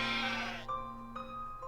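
Goats bleat in short, tonal bursts in the Professor Layton vs. Phoenix Wright video game, a long wavering bleat followed by several brief ones, clear and alone.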